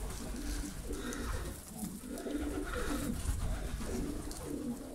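Pigeons coo steadily inside a dirty pigeon loft, several birds overlapping in a continuous low, throaty murmur with soft rustling, close and fairly loud throughout, no talking.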